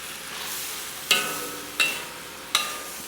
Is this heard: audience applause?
no